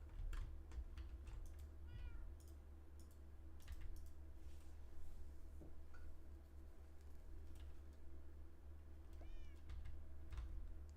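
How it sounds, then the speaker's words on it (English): A cat meows repeatedly in the Minecraft video game, with soft mewing calls recurring over a constant low game ambience and scattered light clicking. "I guess the kitty"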